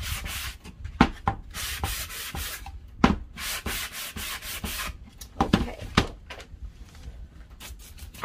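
Sandpaper rubbing against wood in quick uneven strokes, with a few sharper scrapes and knocks, close by and with no talking.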